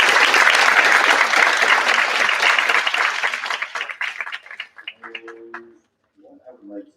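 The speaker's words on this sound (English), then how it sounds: "one last round of applause for both of our presenting groups." A loud, full round of audience applause at a high school humanities symposium fills the room, then thins out and fades, leaving a few scattered claps and faint murmuring at the end.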